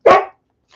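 A single sharp dog bark sounds close and loud, followed by a short quiet gap and a faint trailing noise.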